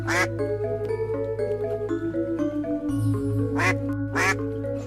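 A Muscovy duck quacks repeatedly in short nasal bursts over a steady background of music, close and fairly loud, with no speech.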